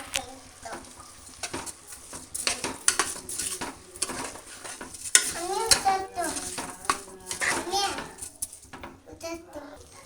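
Stirring washed rice and vegetables in a pot for veg pulao, with spoon scrapes and clinks against the vessel close up while someone talks over it and a voice is heard in the background.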